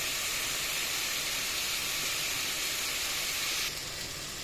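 Tomatoes sautéing with salt in a hot pan for channa masala, a steady close sizzling hiss that holds evenly and then drops slightly toward the end.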